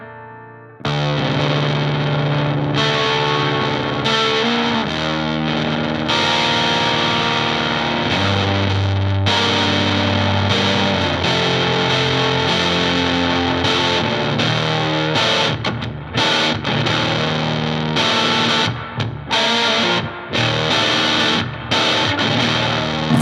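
A distorted electric guitar through an overdriven preamp pedal, normal channel up and bright channel down, plays chords and riffs with a thick tone, loud and continuous with a few brief pauses between phrases.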